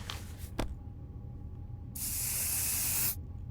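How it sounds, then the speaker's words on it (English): A bug spray can hissing in the video game 60 Seconds: one loud, steady hiss of about a second, alone after a couple of faint clicks. "Oh, that's what that sound is. That's like bug spray sound."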